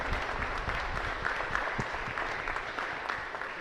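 Congregation applauding young catechism members during a live Mass at a chapel in Luque, a steady dense wash of clapping throughout with no talk.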